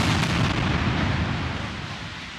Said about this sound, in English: Israeli airstrikes have been pounding Gaza